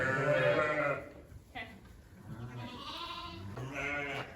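Sheep and newborn lambs bleat in a barn, several close, wavering calls in a row with short pauses between them.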